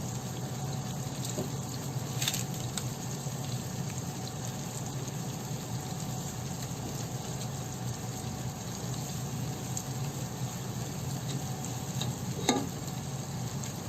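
Onions fry in hot oil with salt, giving a steady close sizzle that runs throughout with an occasional faint clink of stirring.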